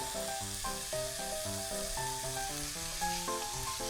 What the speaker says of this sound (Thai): แล้วก็ผัดให้เข้ากันนะครับ